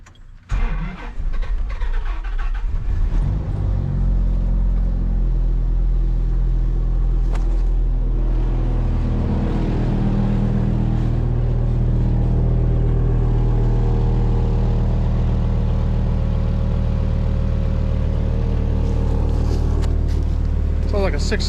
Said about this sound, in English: Sounds like a 6-cylinder, doesn't it?